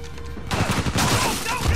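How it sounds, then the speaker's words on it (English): Gunfire from Uncharted 4: A Thief's End bursts in after a quieter moment, a loud cluster of rapid shots and impacts over game background noise. "we were supposed to enter the car under gunfire"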